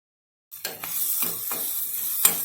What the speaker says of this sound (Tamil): இப்போ கொஞ்சம் நல்லா கலர் வந்து சேஞ்ச் ஆகிற வரைக்கும் லைட்டாக கொஞ்சம் சாட்டே பண்ணிக்கலாம்